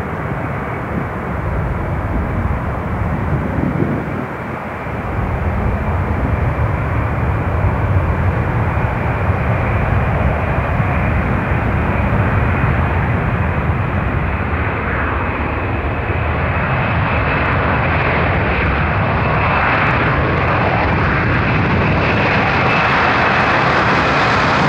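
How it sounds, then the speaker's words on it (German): Loud, sustained roar of jet engines spooling up and building as an MD-11F cargo jet powers down the runway on takeoff, steady and close. "Takeoff."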